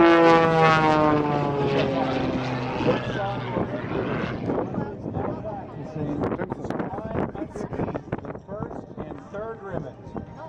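Aerobatic propeller airplane flown by Sean D. Tucker passing low over a runway at over 210 miles an hour, a loud droning engine with a strong harmonic whine that fades and shifts as it passes, with wind buffeting and a voice talking over it.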